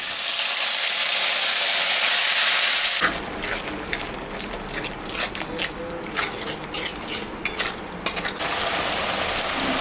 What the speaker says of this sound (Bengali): এখন আমি মশলাটা দিয়ে দেবো এখানে আদা রসুন পেঁয়াজ সব বাটা আছে এটা দিয়ে দেবো